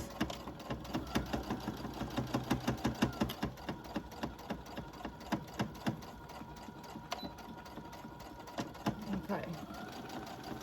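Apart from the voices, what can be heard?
sewing machine back stitching fabric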